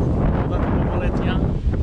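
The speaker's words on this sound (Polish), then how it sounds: "wiatr napiera" Strong wind buffets the microphone in a steady roar at a Maginot Line bunker, with a brief spoken word over it.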